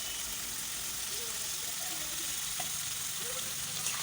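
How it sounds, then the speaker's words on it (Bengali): Fried potatoes go into a spice paste frying in a pan, giving a constant even sizzle at moderate level with a faint low hum beneath and no clear strokes of stirring. "এরপর আমি ভেজে রাখা আলুগুলো দিয়ে দেব"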